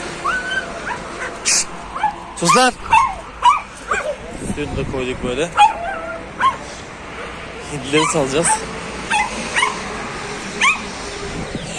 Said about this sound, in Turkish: Köpeğimiz niye kuduruyor bizim?